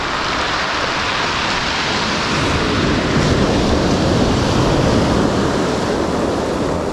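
Big swell surf crashes and washes continuously onto a fishing beach, a loud, dense roar that swells slightly in the middle, with wind mixed in and no voices.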